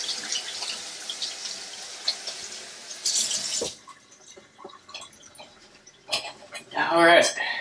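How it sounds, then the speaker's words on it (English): Water running from a kitchen tap while hands are washed, short splashing bursts that start and stop, with a person speaking in between. "Wash my manos."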